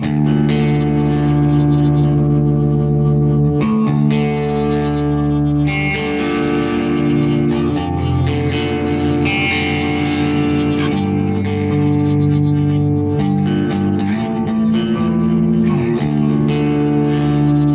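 Clean electric guitar through a Tone Master Pro's delay and looper, repeated phrases stacking into a dense, echoing, continuous wash of layered notes.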